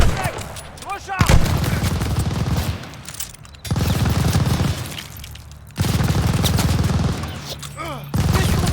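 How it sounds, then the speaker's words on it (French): Machine gun fire in Call of Duty Vanguard, loud sustained bursts of automatic gunfire broken by short pauses, close and harsh, with shouted voices in the battle. "Je fais feu sur la mitrailleuse!"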